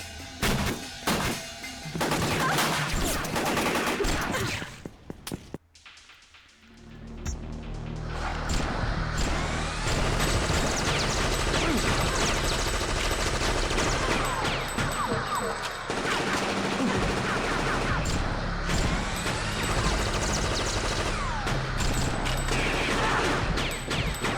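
Gunfire in the PlayStation video game Fear Effect, a loud sustained burst of rapid shots and impacts that continues for most of the stretch after a brief quiet gap, dense and close.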